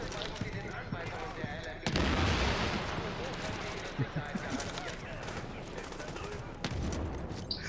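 Grenade explosions and gunfire in The Division, played on PS4. A heavy blast erupts early, followed by repeated bangs and crackling shots. A player's voice talks over the combat.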